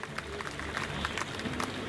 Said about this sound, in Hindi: जोरदार तालियों के साथ इनका स्वागत करिए।